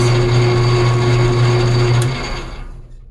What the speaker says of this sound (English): Oh, it's kind of noisy. It shakes the whole shop, but cool drill press.